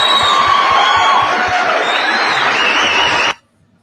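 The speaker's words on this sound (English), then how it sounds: "Give her a round of applause." An audience at a dinner gathering bursts into loud, dense applause and cheering that holds steady for about three seconds, then cuts off abruptly into silence.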